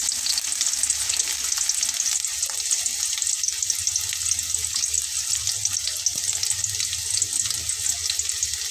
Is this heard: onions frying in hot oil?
yes